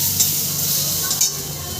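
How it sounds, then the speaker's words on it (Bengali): Mango chutney ingredients with a little turmeric frying in a pan, producing a steady, loud, close sizzling hiss that runs without a break. "আমি এবার এটা ভাজা ভাজা করে নেব একটু একটু ভাজা ভাজা করে নিয়ে"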